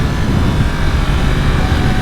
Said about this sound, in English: Man, the motor sounds good. I like that cross-plane crank engine.